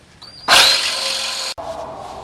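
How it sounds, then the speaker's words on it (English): A power drill bores into a seized exhaust stud on a 1996 Chevy Express van, a brief lighter whir followed by a loud, steady, close grinding whine for about a second, stopping abruptly and then continuing more quietly. "I'm going to try to drill that out."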